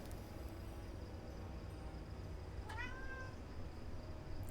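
A house cat gives a single short meow, faint and slightly distant, over a steady low background hiss.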